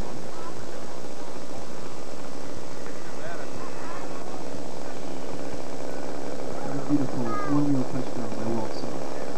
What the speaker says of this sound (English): Joe has his airplane fired up.